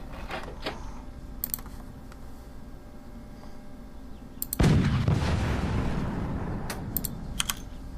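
Cannon fire striking armor in the game Forts: after several seconds of quiet ambience and faint clicks, a single loud blast hits at mid-clip, followed by a sustained rumbling, crackling impact that slowly fades with scattered sharp ticks.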